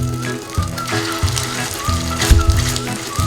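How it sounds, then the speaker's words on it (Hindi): Chicken chapli kabab shallow frying in oil over a medium flame, a steady close sizzle and crackle with occasional louder spits and pops, no talking. "इसी तरह से मैंने सारे कबाबों को दोनों साइडों से फ्राई करना है।"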